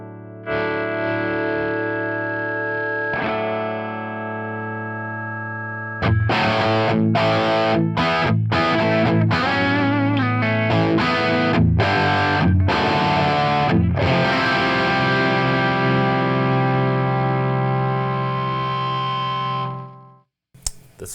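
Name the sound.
electric guitar through Marshall JTM 45 amp, both channels blended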